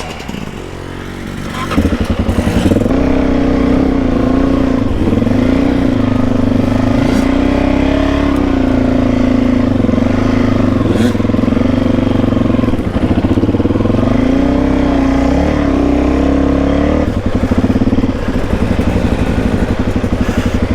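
An enduro motorcycle rides and revs hard on a Fraser Island beach, engine rising and holding a loud, close, sustained drone with shifting pitch before dropping away near the end.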